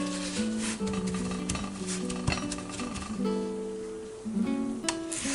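Oil sizzling under a Guyanese oil roti in a hot pan as the flatbread is flipped and oiled, a steady crackling hiss with a layered sustained hum and occasional scraping clinks, no talking.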